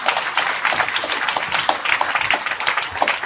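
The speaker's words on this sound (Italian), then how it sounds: "facciamo l'applauso a tutti coloro che non sono riusciti a entrare" Crowd applause at a political rally presenting candidate lists, many hands clapping in a dense, steady patter that holds evenly throughout.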